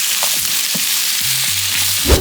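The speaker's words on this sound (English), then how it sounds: "So I'm gonna stir fry the cucumber and the pepper." Cucumber and pepper stir-fried in a hot pan, a steady close sizzle with a few spatula scrapes and stirs, no speech.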